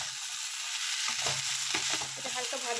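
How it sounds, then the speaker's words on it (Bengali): Vegetables fry lightly in a pan, giving a steady, close sizzle broken by scraping stir strokes and soft knocks of the utensil. "আগে সবজিগুলোকে হালকা ভেজে নিচ্ছি, তারপরে এর মধ্যে শাকগুলোকে অ্যাড করে দিচ্ছি"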